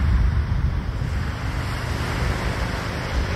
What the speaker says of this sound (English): It is breezy, but I believe that this fun windsock that I've got on my microphone should help that.